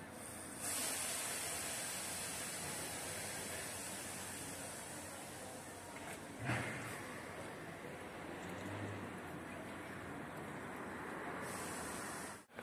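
An electric car rolls past on a street, a steady broadband hiss of tyres and air rising and fading over about twelve seconds, with a brief bump midway and no engine note.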